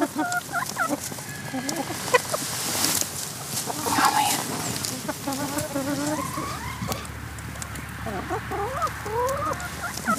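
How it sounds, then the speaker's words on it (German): A sick hen and other hens on a farm cluck and chatter repeatedly, close by, with buzzing insects and a brief rustle in the middle. "ein krankes Huhn"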